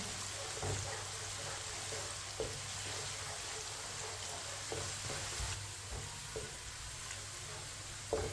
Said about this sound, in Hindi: प्याज को हल्का सा ब्राउन कर लेंगे। इसी तरह चम्मच लाते हुए चूल्हे की आंच को मैंने मीडियम रखा है। मीडियम आंच पर ब्राउन करेंगे।